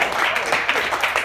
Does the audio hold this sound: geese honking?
no